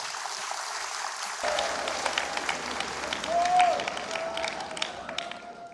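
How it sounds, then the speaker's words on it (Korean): Warm applause from a church congregation at a Korean Presbyterian anniversary worship service, a broad patter of clapping that swells mid-clip with a faint tone sounding over it. "다시 한번 우리 그 유정희 집사님의 두 분 수고하심에 뜨거운 박수로 부탁드립니다."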